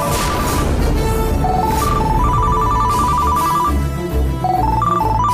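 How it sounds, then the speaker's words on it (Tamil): A loud electronic ringtone plays a repeating melodic phrase of bright beeping notes for an incoming phone call, steady and close, carrying on without pause over a low background bed. "அசோக், அந்த லேடி தான் ஃபோன் பண்றா."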